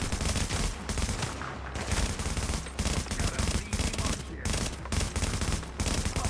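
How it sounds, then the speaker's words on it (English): Rapid bursts of marksman rifle fire in a combat video game, dense repeated shots in short clusters with brief gaps, loud and continuous across the moment. "Little burst fire, short controlled burst"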